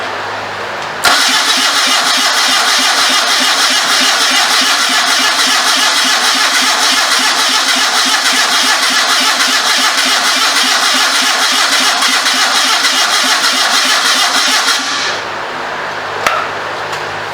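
Honda 650 motorcycle engine fitted in a homemade trike, cranked while firing on only two cylinders, so it chugs and labors unevenly. The loud, steady roar runs for about fourteen seconds and then cuts off, leaving quiet with a faint click.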